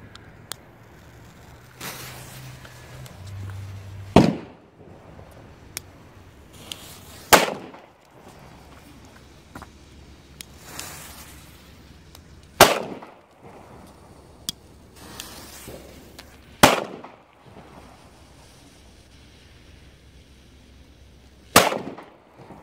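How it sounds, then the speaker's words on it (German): Roter Korsar Megapirat firecrackers explode one after another outdoors, about six loud, sharp bangs spaced several seconds apart with quieter crackles and rustling between them. "Also hier klingt wirklich jeder Böller gleich."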